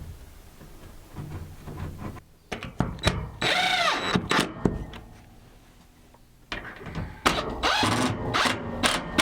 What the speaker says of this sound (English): she's not gonna like that drill